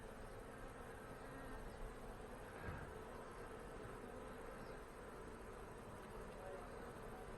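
Honey bees drone steadily close around an open hive box during a colony inspection in an apiary, a continuous buzzing hum with no talk over it.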